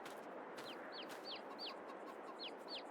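Chickens and roosters cluck in a farm video game, a run of about six quick, rising clucks repeating at an even pace over a continuous hiss of background noise, fairly faint, with no talking.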